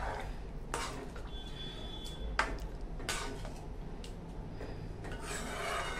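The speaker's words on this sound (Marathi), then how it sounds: "छान हलवून घ्यायचं" A spoon stirring dum aloo potato curry in a pan, with several distinct scraping rubs against the pan at irregular intervals, close and clear with no talking.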